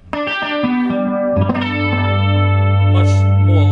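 An electric guitar runs through a Maxon PAC-9 chorus pedal with the bright switch off, sustained chords swelling lush and wavering, loud and close, with no speech.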